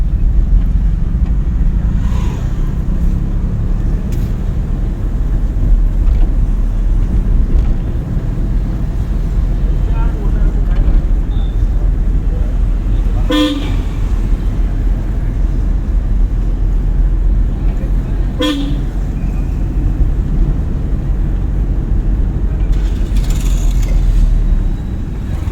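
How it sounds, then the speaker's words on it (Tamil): A learner's car pulls away during a driving lesson as the clutch is released, giving a steady low engine and road rumble throughout with a few brief mechanical clicks, fairly loud and constant. "காலை எடுத்துட்டு எக்ஸைட் யூஸ் பண்ணி வண்டி போயிடும்."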